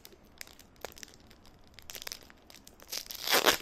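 A Pokemon Darkness Ablaze card pack is torn open by hand: scattered crinkles and small tears of the foil wrapper build to a loud, sustained ripping at the end, close up and with no voices.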